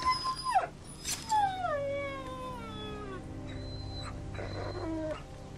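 A wounded dog in The Walking Dead video game whimpers and howls in long, wavering, falling cries, loud and close, with short pauses between them and no talk over them.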